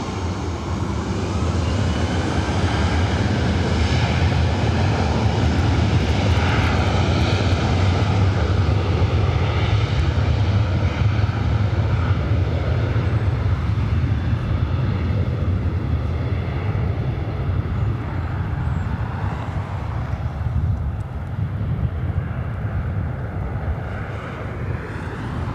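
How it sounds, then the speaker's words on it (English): Delta Air Lines Airbus A330neo arriving at LAX from Tokyo Haneda, a loud, steady jet engine roar holding throughout with a broad low rumble and some wind buffeting, no voices. "Delta Airlines Flight 8 coming up from Tokyo Haneda, the A330 Neo"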